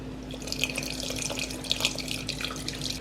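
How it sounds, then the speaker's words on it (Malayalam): Tamarind water pours steadily into a simmering vegetable coconut curry of snake gourd, cucumber and tomato, giving a continuous close splashing trickle with no voices. "ഇനി നമുക്കതുകൊണ്ട് പുളി ഒഴിച്ചു കൊടുക്കാം."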